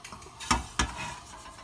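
Lamb chops fry in about a cup of oil for a lamb karahi, a steady close sizzle with two brief utensil clacks against the pan and no voices.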